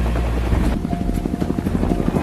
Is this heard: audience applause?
no